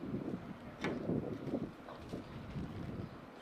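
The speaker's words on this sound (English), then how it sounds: "the wind's blowing, making it very hard for me to get pepper on here" Wind gusts buffeting a microphone outdoors at a barbecue while potatoes are seasoned with pepper, a steady low rumble with stronger surges, no talking.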